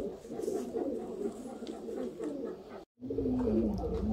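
Old-breed Sialkoti roof pigeons coo steadily in low, throaty rolling phrases, a pair close by, with a brief silent gap before the cooing resumes just as strongly.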